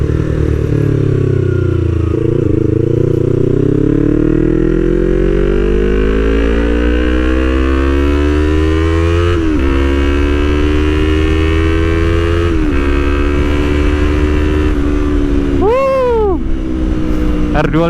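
A Yamaha YZF-R25 sport motorcycle engine revs and climbs steadily in pitch as it accelerates hard, loud and close, with gear shifts and wind noise throughout.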